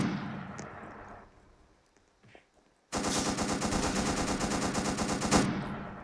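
Roblox Prison Life gunfire, a loud, rapid automatic burst lasting about two and a half seconds that cuts in sharply after a fading rumble and a brief near-silence.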